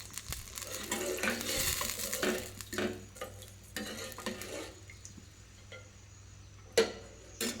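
Water is poured into a bowl while preparing sabudana kheer. Uneven splashing bursts are heard close up, with pauses and a couple of sharp knocks near the end.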